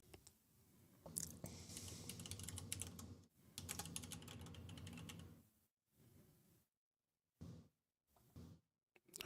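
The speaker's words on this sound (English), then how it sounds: "Are you typing?" Bursts of rapid typing on a computer keyboard at a desk during a serverless database coding session, several clustered runs of clicks separated by pauses, close and fairly quiet with no talk over it.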